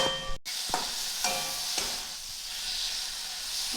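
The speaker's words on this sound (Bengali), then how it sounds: "যতক্ষণ না তেল ছাড়া ছাড়া হয় মশলাটা কষতে থাকবো" Spice paste fries in oil over low heat for an egg curry, giving a steady close sizzle, with a few soft stirring scrapes near the start before the frying hiss carries on alone.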